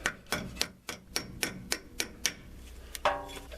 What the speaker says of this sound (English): you may have to give that a little push with a hammer, a little gentle persuasion